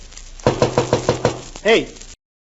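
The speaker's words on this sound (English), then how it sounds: "knock on the door again, and I'll show you your mistake." A series of about six firm, evenly spaced knocks on a door sounds in an old radio comedy, followed by a brief voiced exclamation.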